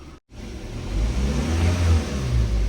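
A Daihatsu Xenia engine being revved while its temperature runs hot, a loud, close engine note swelling and holding after a brief cut, with low rumbling throughout.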